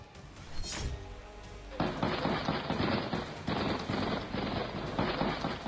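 Gunfire rings out during a terrorist attack on a church and synagogue in Derbent, Dagestan: a sharp crack followed by rapid, repeated bursts of shots, loud and echoing, with no talking.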